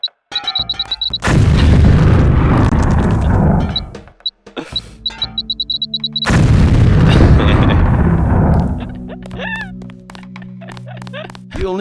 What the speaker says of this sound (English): If you aren't close enough, the lamp will fall to the ground and detonate.